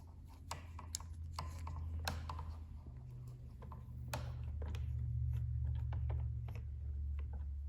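Quick clicking from a ratchet with a 10 mm socket loosening the handlebar bolts on a Honda Navi, steady up close under a low motor-like hum.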